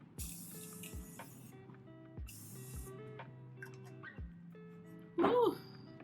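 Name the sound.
Morphe Continuous Mist setting spray sprayed on face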